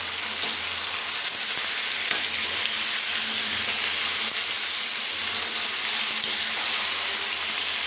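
Spices and ginger fry in hot oil for chicken masala, a loud continuous sizzle heard close up with faint stirring, steady for several seconds with no talk.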